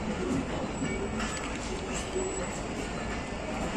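The Hazara Express passenger train rolls out of Shorkot in Pakistan, giving a steady rumble and rattle of wheels and carriages heard from on board, with a voice speaking over the constant noise.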